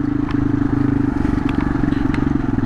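Kawasaki KLR adventure motorcycle riding downhill on a rough trail, a steady low engine drone with rattling and clatter from the terrain, loud and close throughout.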